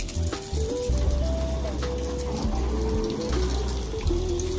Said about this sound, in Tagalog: Pakita ko lang sa inyo pagbuga natin ng tubig.